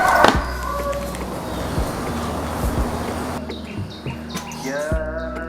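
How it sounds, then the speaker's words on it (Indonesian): Several canaries chirp and trill together outdoors in front of a house in the morning, caged birds set out side by side; bright, busy calls over a dense noisy background, with clearer warbling phrases near the end. "Kita keluarkan semua burung secara bersamaan."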